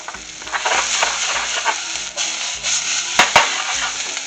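Minced fresh basil sizzling in a hot frying pan, a steady close frying hiss with a few brief stirring scrapes and clinks, no talking.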